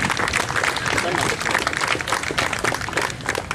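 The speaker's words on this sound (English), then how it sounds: "so give them a round of applause." A college athletic banquet crowd at the University of the Ozarks breaks into loud, busy applause and scattered claps, with voices mixed in beneath the clapping throughout.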